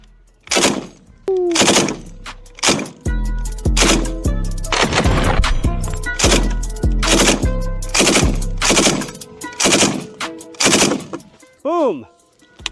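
An FN Minimi M249 light machine gun rips off repeated loud bursts at a brick house, sharp rapid volleys with short pauses between them, ending in a few scattered shots and ringing echoes.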